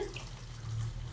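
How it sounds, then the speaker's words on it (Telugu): Half a glass of water pours briefly in a steady trickle into chicken curry, close and fairly soft, with no voices. "ఒక హాఫ్ గ్లాస్ నీళ్ళు పోసి"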